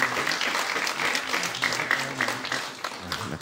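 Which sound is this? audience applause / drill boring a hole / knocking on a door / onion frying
audience applause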